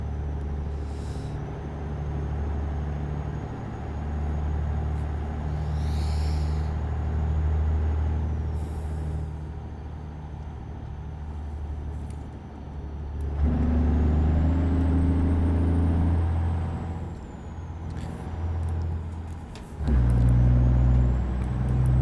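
A Kenworth truck drives in American Truck Simulator, its engine a steady low rumble that swells as it accelerates, with several short air-brake hisses along the way and no talking.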